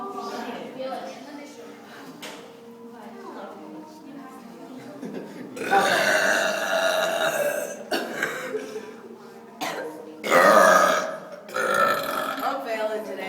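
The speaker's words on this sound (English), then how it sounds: "That burping's too sexy." Loud, drawn-out burps from a burping contest, several of them in succession with bursts around the middle and later, close to the mic with people talking in between.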